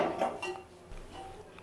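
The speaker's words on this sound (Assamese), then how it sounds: "কেৰাহীটো বহাই দিম" A kadai wok is set onto a lit gas stove in a home kitchen, giving a short, soft metallic clatter and clink at the start. Faint light knocks follow, and no one speaks.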